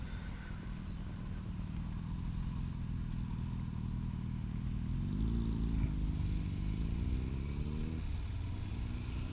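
Motorcycle ridden on a Mod 2 riding test, a steady mid-pitched engine drone with a rising rev as it accelerates and shifts up, close and continuous.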